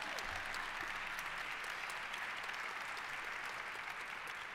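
Soft, fairly distant applause from an audience at a panel event on the school-to-prison pipeline, an even, continuous patter of clapping with no voices over it.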